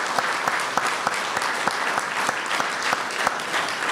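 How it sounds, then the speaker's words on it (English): An audience applauding Vietnam veterans at an event, a continuous, even burst of many hands clapping with crisp individual claps throughout. "let's give a round of applause and show our appreciation of that"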